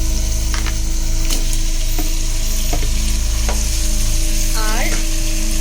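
Chicken pieces going into masala that is frying in oil for a chicken and egg biryani, giving a steady close sizzle with a few sharp clicks and scraping stirs, a brief squeaky scrape near the end, no talking.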